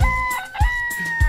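A rooster crows in a farmyard setting, loud and close, with three short bursts repeating at regular intervals over a steady tonal background.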